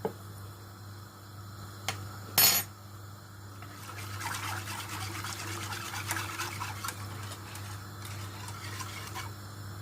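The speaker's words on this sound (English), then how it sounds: "so we're just going to keep stirring until it thickens and it comes to boil" A spoon works steadily through a thickening cheese sauce in a pan, seasoned with salt and cracked pepper, producing a soft continuous scraping and swishing that grows slightly busier partway through, with one brief sharp knock near the start.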